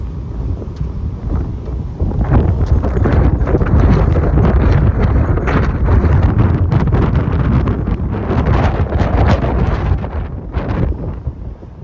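Strong outdoor wind buffets the microphone in a loud, continuous low rumble that swells after the first couple of seconds and stays heavy throughout.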